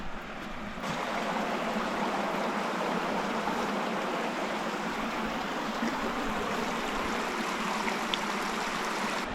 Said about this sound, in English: The Creek River just kind of comes right up next to the trail.